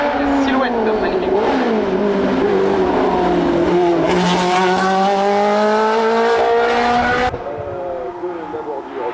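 A race car drifts at the Bagnols Sabrans hill climb, its engine holding a loud, steady howl with rising revs and tire squeal before easing slightly near the end, while a commentator talks over it.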